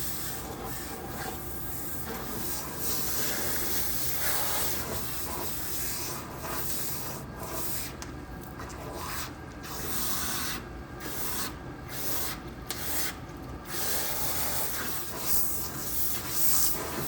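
Hands stroking conditioner along the lengths of bleached, color-treated hair in long smoothing motions, making soft, wet rubbing and swishing that repeats in a slow, steady rhythm, close to the microphone and without speech.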